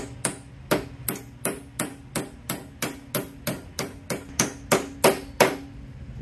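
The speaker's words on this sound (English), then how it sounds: "So make sure you drive that roll pin down until it stops." A hammer drives a roll pin into a Superduty Dana 60 axle part, about fourteen sharp metallic strikes in a steady, even rhythm, close and loud, with a ringing ping on each blow as the pin reaches its stop.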